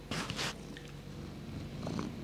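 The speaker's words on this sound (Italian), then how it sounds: "Sentite la fusa." A cat purring close by, a soft continuous rumble with a couple of breathy bursts near the start, alone without talk.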